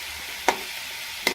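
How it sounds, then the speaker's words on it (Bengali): Potatoes frying in a pan as they are stirred, a soft steady sizzle with two sharp scraping clinks of the utensil, close by. "আলুটা এমনি করে নাড়াচাড়া করে বেশ কিছুক্ষণ ভেজে নেব"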